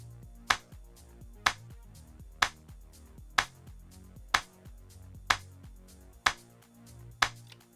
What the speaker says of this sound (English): So the clap pretty much sounds like this, which I've got on channel 3 here.